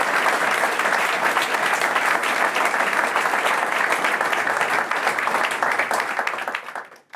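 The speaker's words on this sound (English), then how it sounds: "I want to have a big applause for all the ladies" Dense, loud applause from a live audience at a cycling team presentation, welcoming the women riders; steady crowd clapping fills the whole stretch before fading out at the end.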